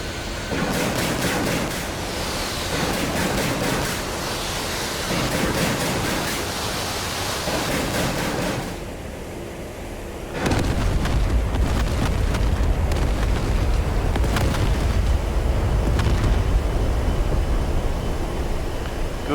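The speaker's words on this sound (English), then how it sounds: "Now every time I pull the trigger, it will fire 10 rockets at once." An A-10 in a flight simulator game fires a ripple of ten rockets at once, a loud continuous roaring rush with crackling bursts, followed by a deeper, heavier rumble that builds midway and holds steady to the end.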